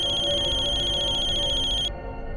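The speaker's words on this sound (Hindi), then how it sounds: "फोन उठाओ वीरेन, फोन उठाओ" A phone rings with a rapid trilling electronic tone for about two seconds, then stops, leaving a low background hum.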